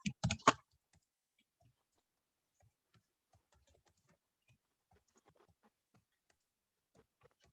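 Computer keyboard typing: a quick cluster of sharp key clicks up close, then sparse, faint taps scattered over the quiet remainder.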